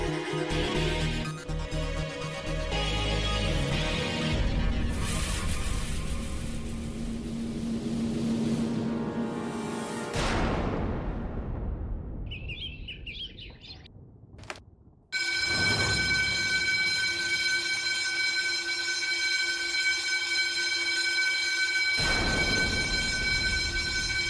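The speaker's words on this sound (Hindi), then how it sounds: "फायर अलार्म क्यों बज रहा है?" A fire alarm rings in a house, a loud, steady electronic tone cutting in abruptly after a swelling rush of dramatic sound and holding unbroken to the end, with no talking.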